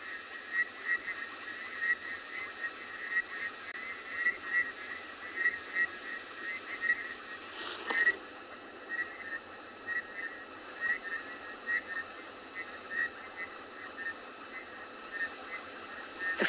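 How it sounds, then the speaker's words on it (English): A dense evening chorus of frogs and insects in South Africa, with steady trilling and repeated chirps layered together, continuous and fairly loud, with no other sounds over it. "The frogs, the insects."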